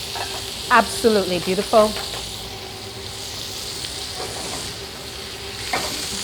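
Onion, scotch pepper, garlic and herbs caramelizing in a hot pan for a roast give a steady close sizzle and fry with stirring, while a voice speaks briefly early on over the hiss.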